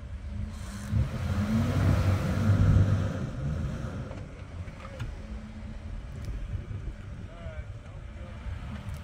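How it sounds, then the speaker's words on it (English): A Toyota FJ Cruiser stuck on South Draw Road, with a Chevy ZR2 helping, spins its wheels as its engine revs and swells to a loud peak, then settles into a rumbling drone under people talking. "He's spinning his wheels now."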